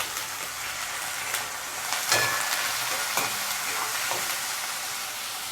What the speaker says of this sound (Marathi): ओले वाटाणे घेतले, ते टाकून घेते.